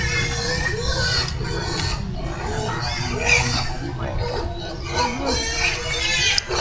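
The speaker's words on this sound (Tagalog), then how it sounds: "Ayan yung baboy guys." Pig grunting outdoors at a rural hut, rough low grunts and snorts recurring close by throughout, with talk and background noise mixed in.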